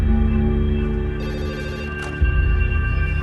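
A telephone rings in the control room of an industrial plant during a minor gas leak, a loud steady electronic ring with a brief break before resuming, with no voices.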